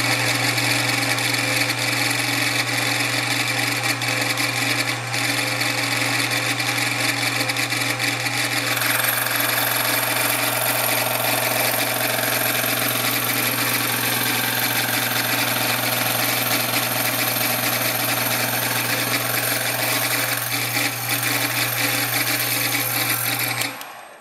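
A slitting saw on a milling machine cuts a slot for a screwdriver in a desktop gyroscope part, a steady loud motor drone with a constant hum and a bright whining, grinding cut that holds throughout before stopping at the end.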